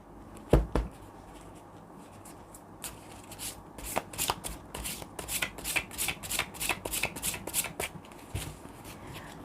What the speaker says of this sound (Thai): เดี๋ยวอาจารย์จะขอสรุปไพ่นะคะ